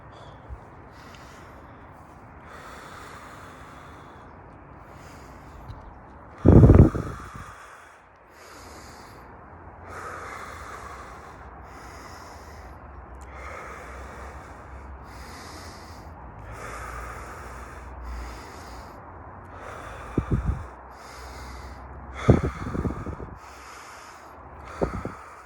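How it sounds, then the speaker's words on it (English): Deep breaths during a breathwork exercise, with slow, airy inhales and exhales spread across the stretch and a few sharp, loud snort-like breaths, close to the microphone. "we're gonna get into one last breathing, and that'll be 3, guys. That'll be 3 breaths."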